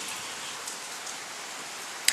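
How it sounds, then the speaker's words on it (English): Rain falls steadily at night in Jamaica, a soft, even hiss of drops with a faint sharp tap near the end. "the rain is fall right now"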